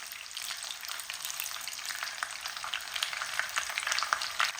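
Surmai fish frying over high heat in a pan, a steady bright crackling sizzle with dense popping that grows slightly louder toward the end, close and alone without talking.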